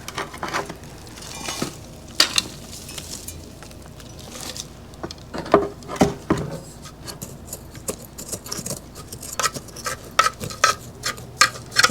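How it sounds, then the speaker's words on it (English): Compacted potting mix being scraped out of an amaryllis pot, a continuous run of close, gritty scrapes and small knocks in uneven bursts with no talking. "It's going to take a little work to scrape out some of the potting mix that was in here."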